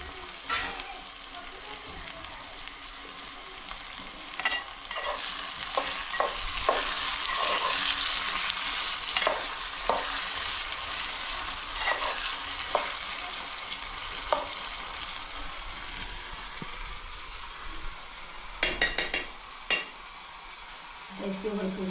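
Browned onion and tomato sizzle steadily in a pan for a dry clam curry, with intermittent stirring scrapes and clicks of a spoon against the pan, close up and continuous.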